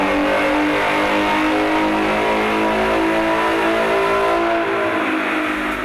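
A 2015 Ford Mustang V6 automatic with a cold air intake and 93 octane tune roars steadily on a chassis dyno, engine revving loud and sustained under load throughout with no talk.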